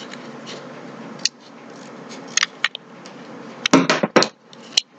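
Scissors snipping paper for a cup craft, a handful of short sharp cuts spaced irregularly, with a quick cluster of snips toward the end, close and alone over a faint background hiss.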